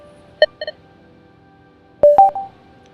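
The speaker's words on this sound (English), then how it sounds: "The first sound used 2 same notes to mimic the double-click effect of a mouse" Sonification beeps for selecting an item in a fantasy football draft interface: a pair of identical short tones, then a quick pair of different pitched tones, clean and electronic with silence between.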